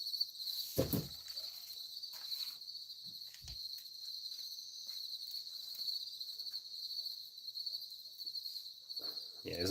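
Crickets chirp steadily outdoors in a continuous high trill near a 1996–2005 Chevrolet Astro van under fuel system repair, with a few brief thumps and rustles early on.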